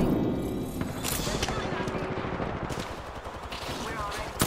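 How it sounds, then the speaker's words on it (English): Gunfire in the battle game Apex Legends, a steady clatter of rapid shots close by, mixed with in-game voice callouts throughout. "Shot fired and they're hitting me."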